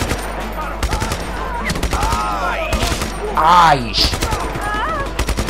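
Automatic gunfire in Just Cause 3, rapid bursts of shots and a brief fusillade crackling close and loud, mixed with voices and exclamations from people talking over it.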